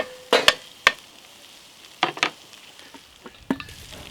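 Pork frying in a pan during cooking, with quiet steady sizzling broken by several sharp crackles and pops spaced irregularly, close and fairly loud.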